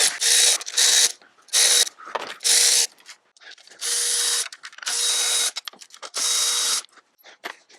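Ratchet tightening valve cover bolts on a 2004 Toyota Camry, with loud, close bursts of rapid clicking in uneven strokes separated by brief pauses.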